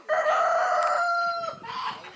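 A goose calls once, close by, with a loud, sustained honking cry lasting over a second, followed by a shorter, softer call.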